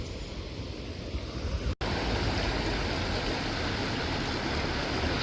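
Water flows along a stream in an idyllic Mendips village, a loud, steady rushing wash close to the microphone, broken once by a brief dropout, with no talking.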